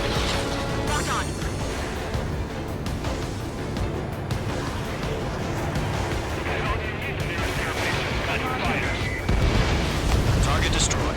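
A destroyed target explodes in the jet combat game Ace Combat 7, a dense rumbling blast carried over continuous roaring engine and battle noise, with a louder surge near the end.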